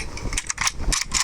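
A gun magazine is changed in a battle royale video game, heard as a quick series of close mechanical clicks and clacks over about a second.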